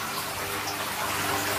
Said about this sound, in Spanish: Estamos quitando el agua de aquí para ponerla allí